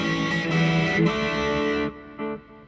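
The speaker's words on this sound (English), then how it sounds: "slightly less distortion." A distorted electric guitar rings out with a sustained, buzzy chord, then a second shorter chord follows after a brief drop.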